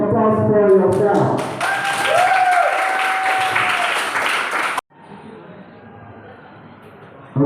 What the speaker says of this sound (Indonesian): give applause for yourself